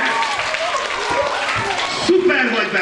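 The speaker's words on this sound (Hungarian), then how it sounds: "Tapsoljátok meg!" An audience at a children's show in Sümeg applauds, dense steady clapping filling the whole moment, loud and close, with a slight swell near the end.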